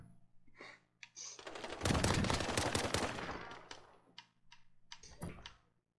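Pistol gunfire in a Call of Duty match, where a player with pistols only lands two headshots. A rapid burst of close, sharp shots builds into a dense cluster, followed by scattered single shots and brief pauses.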